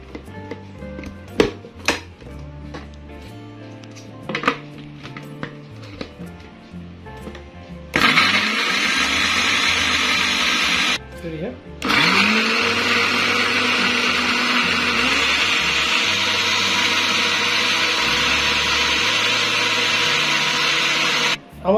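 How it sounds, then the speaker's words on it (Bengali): A blender whirs loudly and steadily for about thirteen seconds, blending grape jelly juice seasoned with black salt and tasting salt; quieter clinks and knocks of kitchen handling come before it starts, with a brief pause partway through. "এখন আমরা 1 মিনিট থেকে 40 সেকেন্ড ব্লেন্ডার করে নিব।"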